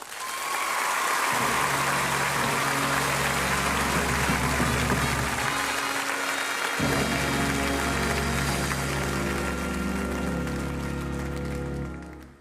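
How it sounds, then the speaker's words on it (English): Studio audience applause on a 1980s Saturday night variety show greeting a performer, loud sustained clapping layered over a band playing with a steady low bass, continuous throughout. "we hope that you give that applause to her for real tonight"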